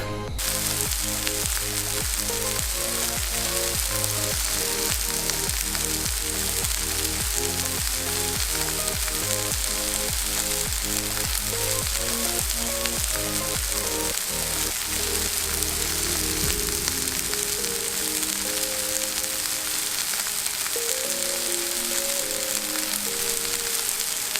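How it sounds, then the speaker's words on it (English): Ackee fruit in water bubbling and hissing at a steady rolling boil, close by, with soft music playing underneath the whole time. "now we're going to put it in the boiling water"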